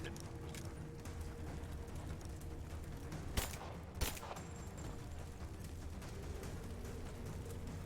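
Explosion in Rise of the Tomb Raider, two short sharp blasts close together over a steady low background rumble, fairly faint overall.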